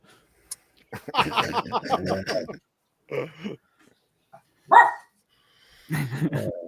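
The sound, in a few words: dog barking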